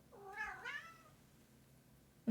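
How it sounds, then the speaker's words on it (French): A single cat meows once, a drawn-out rising and falling cry, fairly faint in a quiet room, followed by a short thump at the end. "Je sais pas si vous avez entendu, mais là, elle a fait un bon miaulement."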